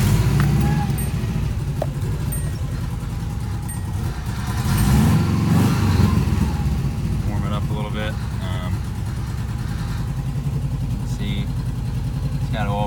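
A 1982 Subaru BRAT engine, started cold, settles into a steady, rumbling idle close by, with a brief swell in loudness partway through and talking heard over it.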